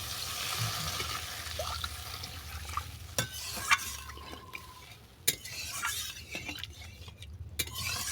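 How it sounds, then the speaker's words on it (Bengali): Masala ground-spice water goes into a pan of well-fried masala for a Bengali cabbage curry, bringing a soft liquid rush and gentle sizzle with a few sharp clinks from a utensil against the pan, fairly quiet and close. "এরপর দিয়ে দেবো মশলা বাটা জল।"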